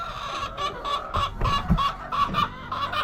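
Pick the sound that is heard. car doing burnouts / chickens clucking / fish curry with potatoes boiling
chickens clucking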